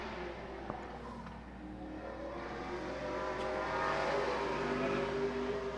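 Street stock race car pulling away at the green flag on the Agassiz Speedway oval, a faint distant engine roar swelling louder over several seconds amid open-air track ambience.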